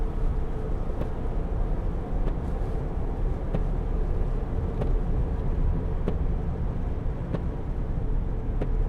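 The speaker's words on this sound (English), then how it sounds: "diesel engine, what a great sound" A 2011 Range Rover TDV8 Vogue SE with its diesel V8 driving on a road, giving a steady, continuous low rumble with road and tyre noise throughout and no pauses.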